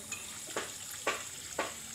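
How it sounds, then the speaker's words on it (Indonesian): Dishes being washed by hand give four short, evenly spaced splashy scrubbing bursts, faint and close, with quiet gaps between them. "Orang dari mana ya nyuci piring, nyuci pinggan?"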